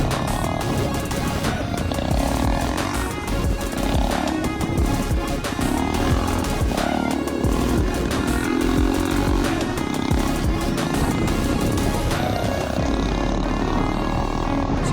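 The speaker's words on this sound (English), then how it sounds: "Nelson, and he's killing it on his old school Honda" An old 27-year-old Honda dual sport motorcycle being ridden, its engine roaring loud and continuous with rising and falling revs throughout, close up with wind noise.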